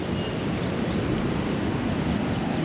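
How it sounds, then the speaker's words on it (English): A fast-running river just in front of the listener, near Devkar Falls on the Yellapur route, gives a loud, steady broadband rush of water with no pauses. "just in front of river, a running river actually."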